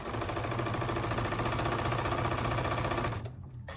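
A sewing machine runs steadily at close range, stitching quilted hot pads with a fast, even mechanical whir and clatter. It stops abruptly near the end, leaving only quiet room noise.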